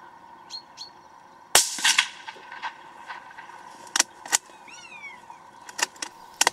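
A rimfire rifle fires one sharp shot at a magpie while hunting outdoors. The crack is loud and close, and a few fainter snaps and bird calls follow across a quiet background.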